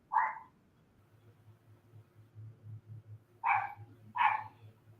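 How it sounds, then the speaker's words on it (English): A dog gives a single sharp bark, then two more close together a few seconds later, fairly close and clear over a low steady hum, with no talking. "That's my dog bark."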